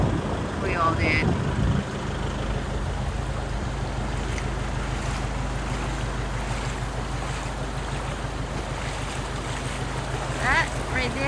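Flooded river running about six feet above its usual level, a steady loud rush of water with wind buffeting throughout; a voice is heard briefly near the start.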